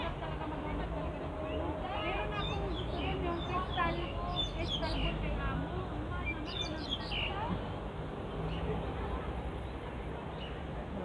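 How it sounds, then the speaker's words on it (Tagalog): Many birds chirp and tweet busily in bursts over a noisy crowd background, with people talking nearby, at a weekend gathering spot in Hong Kong. "Ingay na naman yung ibon eh,"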